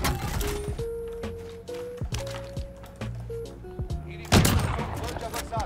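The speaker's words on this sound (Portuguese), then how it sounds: "Eu tô tomando tiro do paraquedas." Gunfire in the Warzone video game during a solo match: bursts of rapid shots and scattered single reports over game music tones, with a heavier volley near the end and players talking over it.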